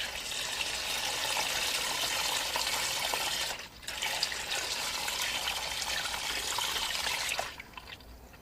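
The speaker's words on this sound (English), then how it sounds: "So we'll let that drain for" Diesel flush pouring out of an engine sump, a steady close liquid splash and trickle that briefly dips and then cuts back near the end, with no voices.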